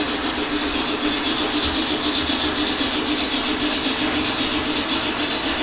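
Steady, continuous rumble and whir of an O scale model train running on track in a U-shaped train room layout, with a constant hum and faint rhythmic clicking, no voices.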